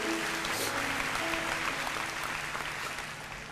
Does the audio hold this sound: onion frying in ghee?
no